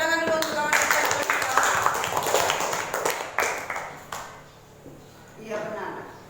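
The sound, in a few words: classroom clapping for a classmate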